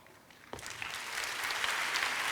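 An audience at a church summer camp session begins clapping after a faint start. The applause swells quickly and keeps building into a fuller, steady round of clapping heard at a moderate distance.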